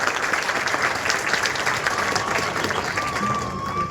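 Steady applause from an audience at a milk day program in Porbandar, a dense continuous clapping that fills the whole stretch at fairly close range, with faint crowd murmur mixed in.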